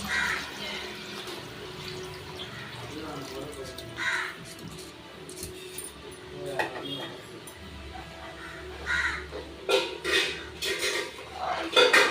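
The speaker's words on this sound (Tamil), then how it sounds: "தண்ணி ஆட் பண்ணிக்கலாம்." Water poured into a metal pot of rice for mushroom biryani, splashing bursts and clinks of pots and utensils nearby, with a crow cawing outdoors in the background.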